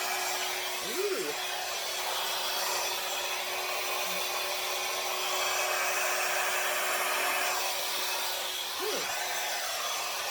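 A small, basic hair dryer blows steadily on wet paint on a canvas, a constant airy whoosh from start to finish with no pauses.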